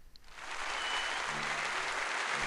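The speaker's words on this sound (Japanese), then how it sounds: "We all hurried to clap." Applause in the Kinkoi visual novel after a performance: a crowd's clapping swells up within half a second and holds as a steady, dense patter, moderately quiet, with no talking.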